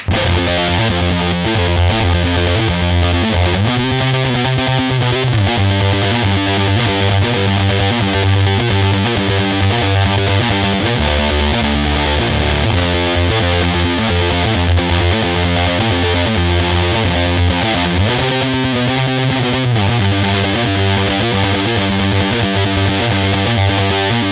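Electric guitar through a Big Muff fuzz pedal plays a thick, saturated, sustained riff, loud and dense throughout with chord changes every few seconds and no voices.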